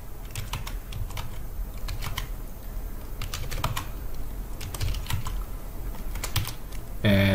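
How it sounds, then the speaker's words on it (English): Someone types a command on a computer keyboard, producing steady, close rapid clicks of individual keystrokes in irregular bursts over a constant background hum. "And I'll actually type it out instead of just pasting it."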